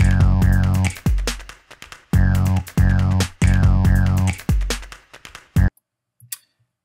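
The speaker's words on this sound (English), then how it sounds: "We have two tracks, a drum loop and a bass," A drum loop with bass playing back in Ableton Live, punchy kick hits driving a tonal bass line in a steady repeating pattern, clean and close, stopping abruptly before a few faint trailing sounds.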